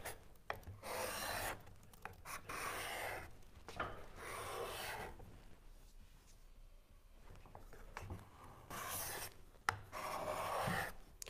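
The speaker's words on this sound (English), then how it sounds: "these fine little shavings, you're more like microplaning at this point than scraping." A card scraper takes fine wood shavings in repeated soft rasping strokes, close and quiet, with brief pauses between passes.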